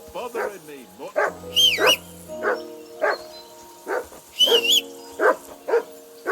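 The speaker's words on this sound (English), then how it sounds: "Jesus, Henry, that barking's driving me nuts." Repeated close barks from a dog in Kingdom Come Deliverance 2 come in a steady, insistent series, mixed with a couple of higher yelping whines, loud and persistent over several seconds.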